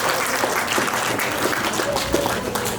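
A round of applause from guests at a birthday party, steady crowd clapping that continues evenly throughout with a few louder individual claps standing out.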